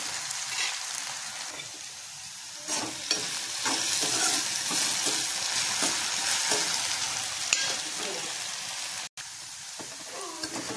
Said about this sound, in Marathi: आणि परत हलवायचं, म्हणजे सगळीकडे मीठ एकजीव होणार आपण टाकलेलं